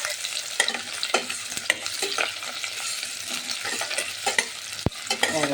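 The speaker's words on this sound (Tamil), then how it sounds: "வெங்காயம் வதங்கட்டும்." Onions sautéing with green chillies in a pan, a steady crackling sizzle broken by repeated scraping stirs from a spatula, close and fairly loud with no voices.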